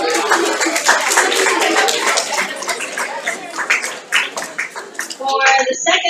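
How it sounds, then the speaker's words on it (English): An audience claps for a team at the STEM Cup 2018 awards, a dense patter of hands that swells and thins, ending in a sharper burst of noise. "Let's give them a round of applause."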